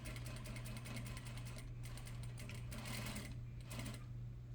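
A sewing machine hums and rattles steadily while back stitching at the end of an inseam pocket seam, running continuously and fairly faint with no voices.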